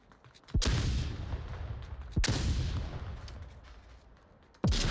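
Grenades go off in the VR shooter game Onward: three heavy, booming blasts, each a sudden loud burst that rumbles and fades over a second or more, spaced unevenly with no talking.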